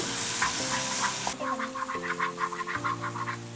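Kothu chapathi mixture, with the oil separating, is stirred in a pan. Quick rhythmic scraping and chopping-like strokes pulse over a sizzling bed, close and fairly loud, with faint steady tones underneath and no speech.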